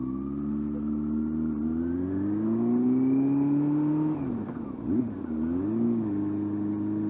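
Car engine revving steadily with variable valve operation switching between two and four valves per cylinder around 6,500 rpm, a loud sustained drone that climbs in pitch, dips briefly near the end, then settles.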